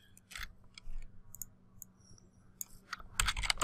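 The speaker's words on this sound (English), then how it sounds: "I'm just clicking it once, and then I'm clicking where I want it to go." A computer mouse clicks a few times, sharp, close taps scattered across a quiet room and growing denser toward the end, with no speech.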